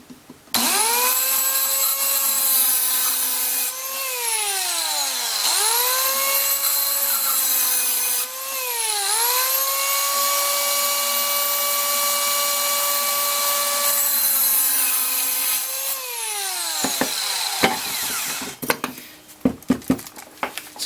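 Rockwell Versacut mini circular saw ripping through wood, a loud steady whine that dips in pitch as the blade loads and recovers, running almost continuously before ending in a few scattered knocks and clatters.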